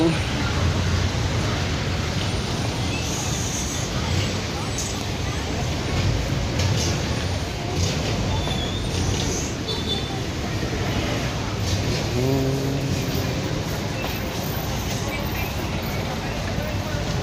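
Busy street traffic in heavy congestion, a steady broad rumble of passing vehicles with engine hum and occasional brief horn-like tones, continuous and moderately loud.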